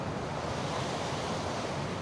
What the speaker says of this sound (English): a little bit of a waterfall going on.